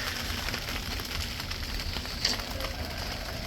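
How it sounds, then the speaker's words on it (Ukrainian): Steady rain patters continuously on a surface, a dense hiss with faint low rumbling underneath and no talking. "І у нас іде дощ"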